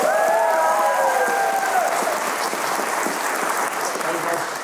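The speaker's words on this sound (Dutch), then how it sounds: "geef nog een grote applaus aan iedereen die bij de avond heeft" Studio audience applauding the crew of a Dutch late-night show, loud and continuous with some cheering; a brief whoop-like voice rises at the start, and the clapping stays dense before easing slightly.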